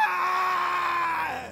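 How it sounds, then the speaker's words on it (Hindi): A terrible scream rings out in a hospital as a story sound effect: one long sustained high cry that holds steady, then slides down and fades at the end. "तभी अचानक उस अस्पताल में एक भयंकर चीख सुनाई दी।"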